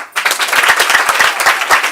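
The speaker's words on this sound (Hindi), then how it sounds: "ताली बजाओ सारे।" An audience at a home satsang in Dubai claps steadily together, a dense, close burst of applause that holds for about two seconds.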